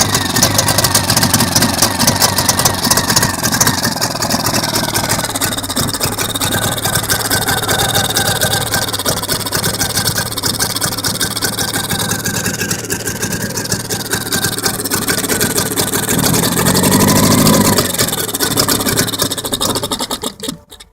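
A steady, raspy two-stroke engine of a Suzuki LJ20 idles continuously at close range, its rough buzzing drone holding an even level throughout with no talking.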